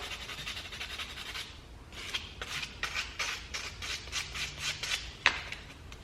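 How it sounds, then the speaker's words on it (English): Sandpaper rubbed back and forth across the edge of a fabricated metal part for a drift car hand-brake setup, a steady run of rhythmic rasping strokes, close and moderately loud, with no one talking. "Now I'm going to just get some sandpaper. I'm just going to clean up the edge,"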